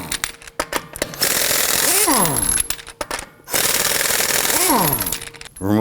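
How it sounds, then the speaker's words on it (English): Impact gun with a 21 mm socket loosening and removing lug nuts from a 2018-2024 Toyota Camry front wheel: two loud, sustained rattling bursts, each winding down, with clicks and handling between. "Using our 21mm socket, we're going to loosen and remove the lug nuts."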